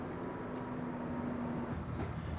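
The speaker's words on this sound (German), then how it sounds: "jetzt kommt ein Traktor, geht gleich weiter" Tractor passing by on a road near a parked Renault Twizy, a steady low engine rumble with a faint drone, distant and fairly quiet, no talk.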